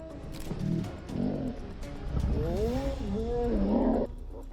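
A male lion roaring during a hunt in the wild, several deep rumbling roars and groans building over a few seconds, loud and close, with faint bird calls in the background.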